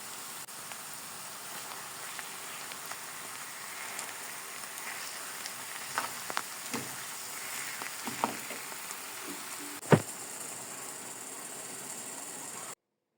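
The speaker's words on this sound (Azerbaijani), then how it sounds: "Və bunları hamısını töküb birlikdə yenə təzədən bişirirəm." Onions and vegetables cooking together in a pan make a soft, steady sizzle, with a few stirring scrapes and one sharp clack near the end, heard faintly and alone.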